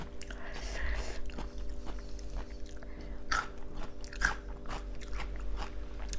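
Pickled soy sauce crab eaten with single-clove garlic produces soft, close biting and crunching sounds scattered over a low steady background hum, with brief faint voices.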